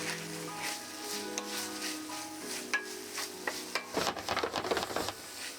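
Pork and nozawana greens cook in a pan, sizzling softly under intermittent stirring and scraping, with a few sharper utensil clacks near the end, close and faint, no voices.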